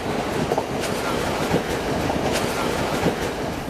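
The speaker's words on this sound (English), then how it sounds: "I'm on board the scenic Colombo-Matara track, which hugs the coastline for the majority of the ride" A passenger train rolling along the coastal Colombo–Matara railway in Sri Lanka, heard from on board as a steady rumble with periodic clickety-clack of wheels over rail joints, continuous and fairly close.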